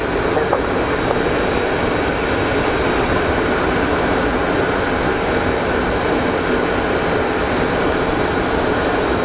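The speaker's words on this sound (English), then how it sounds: "Here comes our American Airlines 737 coming from Cabo" A steady, loud broadband roar of an American Airlines Boeing 737 jet approaching Phoenix Sky Harbor, continuous and unbroken with a faint high whine on top, no talk heard.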